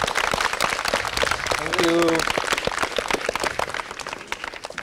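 An audience at a housing society welcome event claps steadily throughout, a dense patter of hand claps running beneath a man's spoken thanks.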